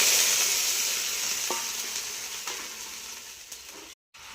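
Water hits a hot pan of fried garlic and chopped chili, bursting into a loud hiss that slowly fades to a softer sizzle, with a few faint taps and a brief cut near the end, and no talking.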